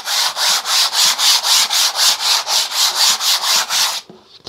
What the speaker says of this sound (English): I will give it a very light sand with some very fine,